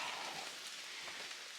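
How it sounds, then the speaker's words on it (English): Light drizzle falling on the Appalachian Trail, a steady soft hiss of fine raindrops spread evenly throughout, faint and close with no voices. "And it's still kind of drizzling rain."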